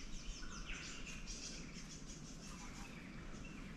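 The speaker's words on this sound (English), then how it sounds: "You can hear the birds." Faint morning birdsong drifts in from a distance in Tasmania: light chirps and tweets scattered over a soft, steady outdoor hush.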